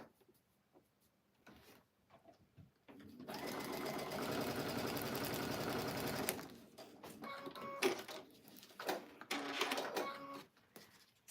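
A sewing machine stitching a quilt piece for an Easter Peeps quilt runs in one steady, fairly quiet whirring burst of about three seconds, framed by small clicks and handling sounds before and after.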